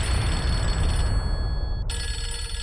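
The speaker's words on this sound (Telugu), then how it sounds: "రింగ్ అవుతుంది, రింగ్ అవుతుంది." A telephone rings in a domestic TV-drama scene: a steady, loud electronic ring tone, with a brief break before it resumes, and no talk.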